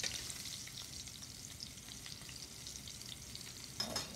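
Scallops searing in a hot pan, a constant close sizzle of moderate loudness that holds evenly throughout, with a slight bump near the end.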